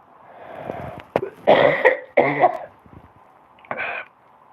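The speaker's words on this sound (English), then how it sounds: "I must apologise for my coughing." A few hoarse coughs and throat clearing close by, in separate bursts with short pauses between them.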